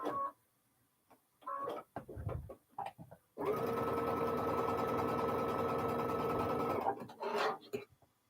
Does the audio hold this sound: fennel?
no